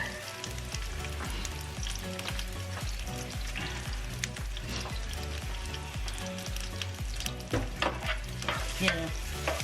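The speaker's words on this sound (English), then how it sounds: "just brown off the onion. Get that smelling going" Onion and spring onion frying in a pan while being stirred, a steady dense sizzle with repeated scraping strokes of a utensil throughout, close and fairly loud, no talking.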